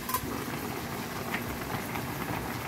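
A pot of food boiling hard, a dense, continuous bubbling roar, close and steady with no voices over it.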